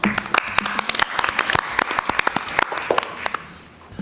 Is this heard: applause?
yes